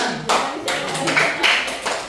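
Hands clapping together in a classroom during a lesson on fasting, a brief burst of group claps that rises and falls over about two seconds, with faint voices mixed in.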